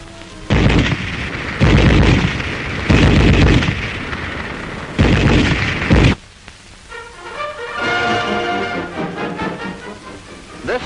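German MG-34 machine gun, 7.92 mm, firing four loud sustained bursts about a second each with short pauses, followed by quieter rattling and clatter.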